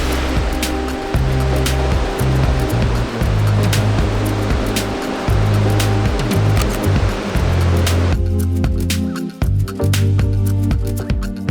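Sea waves of an incoming tide washing onto a Cornwall beach at sunset, a steady loud rushing surf with rolling low swells and hiss, close by, with wind-like rumble throughout.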